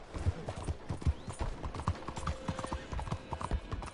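A horse gallops in Red Dead Redemption, with rapid rhythmic clip-clop hoofbeats thudding close and steady through the whole stretch, plus a brief whinny-like cry under the game sounds.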